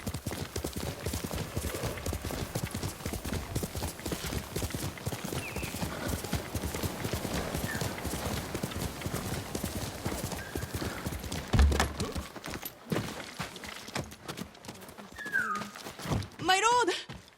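Horse hooves clip-clopping steadily in a Ghost of Tsushima game scene, a long even run of hoofbeats with a neigh and a whinny, then other game sounds and a brief clatter near the end.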